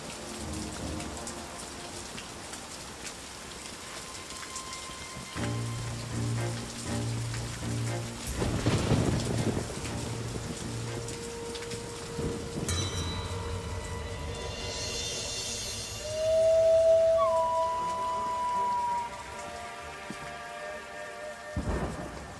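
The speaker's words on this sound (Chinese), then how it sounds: "风大雨急" Heavy rain pours on a windy night, a steady dense wash with deep rumbles of thunder rolling through, while soft tonal music plays underneath.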